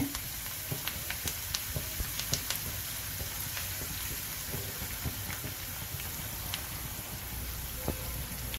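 Garlic frying in oil for a Mangalorean vegetable pickle, a steady crackling sizzle with scattered sharp pops, close and continuous.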